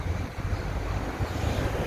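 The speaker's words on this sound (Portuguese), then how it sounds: "tá ventando bastante" Strong wind gusting straight onto an outdoor microphone on a cool morning, a loud, steady low rumble of buffeting with no voices.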